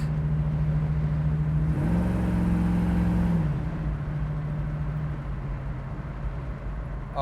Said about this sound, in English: The acceleration in the car is great.